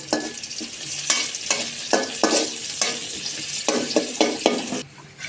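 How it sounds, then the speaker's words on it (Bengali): Bay leaves, onion and spices are lightly fried to brown in oil in a kadai for a chicken and potato curry. Loud, close sizzling is broken by repeated rhythmic stirring strokes, and it drops away near the end. "তেজপাতা আর পেঁয়াজ, আমি এই 3-4টা মশলা একসাথে একটু হালকা ভেজে নিব, একটু ব্রাউন ব্রাউন করে।"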